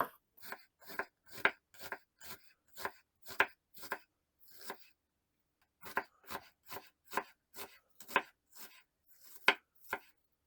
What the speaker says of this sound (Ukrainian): І от такими четвертинками поріжу цибулю.